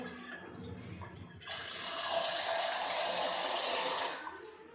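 Water pours steadily into a container holding an indoor bamboo plant for a few seconds with a bright, splashy rush, starting abruptly and stopping near the end; quiet room sounds before it.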